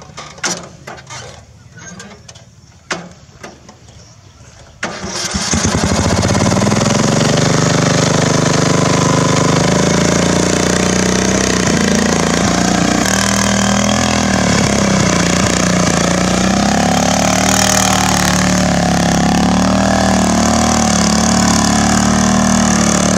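A riding mud mower's engine sits at a lumpy idle with a few sharp clicks, then roars up to a loud, sustained rev held steadily for nearly twenty seconds, close and dominant throughout.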